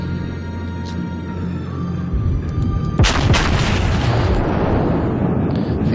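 Heavy battleship guns fire in World of Warships aboard the South Carolina: one deep boom, then a louder, sharper blast about a second later that rolls out into a long, rumbling tail over a low background drone.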